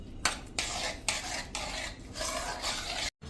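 A spoon stirs rice papad batter with chopped coriander leaves in a steel vessel, giving repeated close scraping and clinking strokes in a steady rhythm with brief pauses between them, and no voices.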